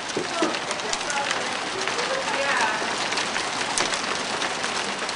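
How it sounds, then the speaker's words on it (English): Heavy summer rain with fat drops falls onto a wooden deck in a dense, steady patter of close, crisp hits. A few faint bird calls sound in the background. "Can you hear those fat drops dropping?"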